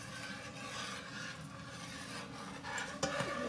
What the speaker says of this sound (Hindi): इसको अच्छी तरह से चला लें